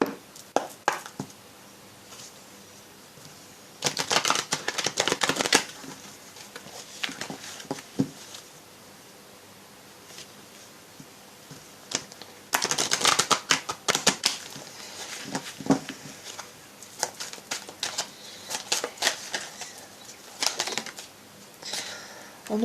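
An oracle card deck is shuffled by hand in bursts, a close, dry, rapid papery riffling and flapping with quieter gaps of handling between, no talking.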